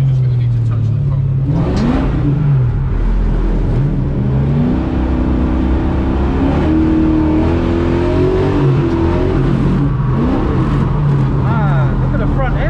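Dodge Hellcat engine revving hard while drifting in second gear, a loud, close, continuous roar that rises and falls in pitch with throttle changes, tire noise mixed in, and a voice talking over it.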